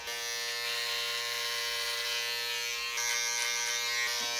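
Electric hair clippers buzzing steadily and close as they shave up the back of a man's head, a constant high whine that brightens slightly partway through as the blade presses into the hair, no talking.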